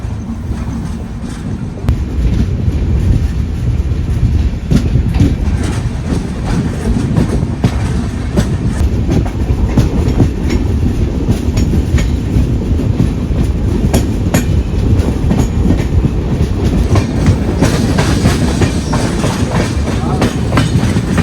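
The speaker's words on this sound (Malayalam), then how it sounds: "ഈ വണ്ടിയാണ് മഡ്ഗാവ് എറണാകുളം സൂപ്പർ ഫാസ്റ്റ് ആയിട്ട് വരുന്നത്" The Madgaon–Ernakulam Superfast train passes on an adjacent track at a wayside station, a loud, steady rolling roar with rhythmic clickety-clack of wheels over rail joints lasting throughout, heard from close by.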